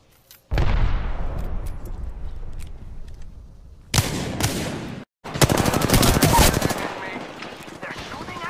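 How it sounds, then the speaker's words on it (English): Loud close gunfire in the Apex Legends video game: a rapid automatic burst, then after a pause two more dense bursts of fast shots with a brief silent gap between them, with game voice lines mixed in. "They're shooting at me."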